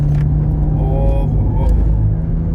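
A 500hp BMW M135i on a race track, its engine a loud, close, steady droning rumble throughout with slight shifts in pitch.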